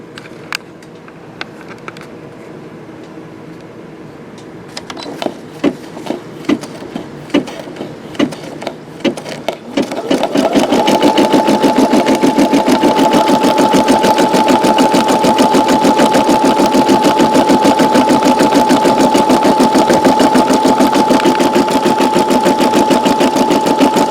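A Brother SE625 embroidery machine starts with scattered ticks and clicks, then settles into a loud, continuous, rapid stitching whir with a steady hum that runs to the end, close by and with no talking.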